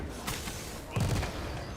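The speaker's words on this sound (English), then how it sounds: "the explosions, man. They're so satisfying." Explosions and gunfire-like blasts from a video game, a burst of booms with a louder cluster around the middle, close and punchy over steady background game noise.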